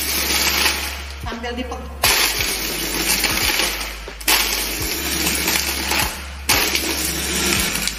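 A Signora chopper blender crushes ice cubes in short, loud motor bursts of about two seconds each, with rattling and grinding from the ice, repeated three times with brief pauses between them. Someone speaks briefly.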